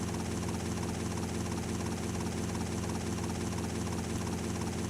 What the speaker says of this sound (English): I can already tell just the helicopter in your ear